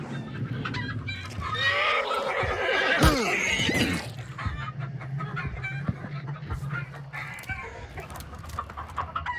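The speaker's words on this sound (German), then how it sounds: "Guck mal da, ein Pferd." A horse whinnies in a long, wavering call in the video game Hunt: Showdown, followed by scattered clucking and rustling noises, fairly close with no talking.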